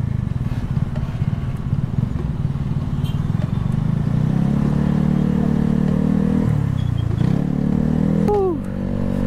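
A Honda Scoopy scooter cruises at night, its small engine droning steadily under constant road and wind rumble, the pitch shifting briefly as the rider eases off and back on the throttle.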